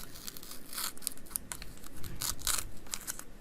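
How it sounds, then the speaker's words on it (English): Tape peeled off a wrapped household item, a run of close crackling, ripping bursts with sticky crinkles over a few seconds, without any voices. "Go ahead and take the tape off."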